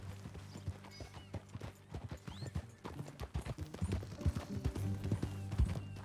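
Horse hooves clip-clop steadily and close while riding in Red Dead Redemption 2, with occasional whinnies and a low musical score beneath, the rhythmic thuds continuing throughout.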